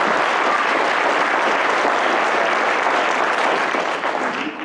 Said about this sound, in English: Maybe we should give them a round of applause as well.